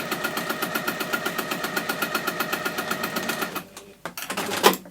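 A sewing machine stitches a simple plastic pencil case with a fast, even run of close mechanical needle clatter, then slows and stops, followed by handling rustles and a brief whir.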